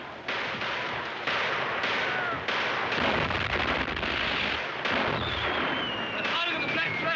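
Artillery fire in a 1939 film battle scene, a continuous loud barrage of booming cannon blasts and crackling explosions, with a faint whistle overhead and voices mixed in under the din.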